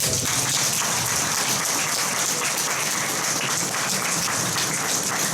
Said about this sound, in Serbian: svi koji su večeras ovde su moji prijatelji i zaslužuje jedan veliki aplauz od svojih prijatelja